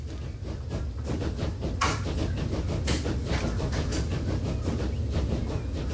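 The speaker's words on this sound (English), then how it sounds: "There is our passenger train now leaving." A passenger train pulls away in the simulation game Transport Fever, with steady rumbling rail noise, rhythmic clicking and a couple of sharp bright clanks, fairly loud and with no voices.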